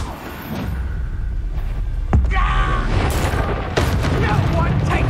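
A Reducto spell blast in Hogwarts Legacy lands as a loud booming impact within dense, continuous game action, with further bursts and a voice talking over the din.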